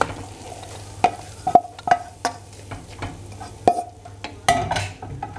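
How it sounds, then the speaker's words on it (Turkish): Minced meat and chopped onions sizzle steadily in a hot pan while a utensil stirs and scrapes, with sharp clinks against the metal every second or so, close up. "Kıymanın üzerine yemeklik doğradığım soğanları ekleyip kavuruyorum"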